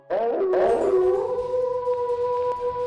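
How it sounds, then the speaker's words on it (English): An animated lightning wolf gives a loud, close howl that rises and then holds a long sustained tone, with no other sound alongside. "over a dozen lightning wolves surround Fang Yuan"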